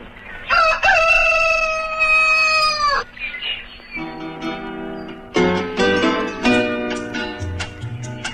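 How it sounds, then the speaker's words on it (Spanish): A rooster crows at dawn, one long loud cock-a-doodle-doo up close, followed by a run of clucks and cries from other fowl nearby. "El gallo anuncia las primeras luces del amanecer."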